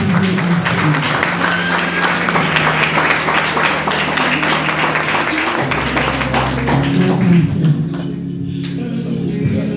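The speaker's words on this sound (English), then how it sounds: "Now let us clap hands for our next speaker as we welcome him on stage." A seminar audience applauds to welcome a speaker on stage, a dense, continuous clapping that stays loud for several seconds, with a low music tone underneath.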